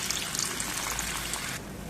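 Water poured into a pan of egg curry with tomato paste, drumsticks and broad bean seeds, a steady trickling stream that runs for about a second and a half and then stops.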